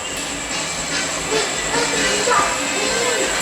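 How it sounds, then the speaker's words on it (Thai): Train 210 rolls into the platform at Chiang Rak Noi railway station, a continuous broad rumbling hiss with a faint high tone, loud and steady throughout without a clear rise or fall. "210นะครับกำลัง เข้าชานชาลา สถานี รถไฟเชียงราก น้อย"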